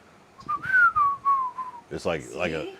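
A person whistles an imitation of a chickadee call, a clear wavering tone lasting over a second, followed by a short burst of talking.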